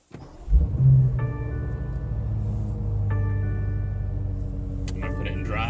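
A 2020 BMW M8 engine starts with a brief cranking surge, then settles into a steady, deep, humming idle heard from inside the car, with a few chime-like tones over it.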